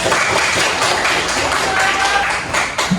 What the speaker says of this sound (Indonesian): Iya, oke, boleh tepuk tangan.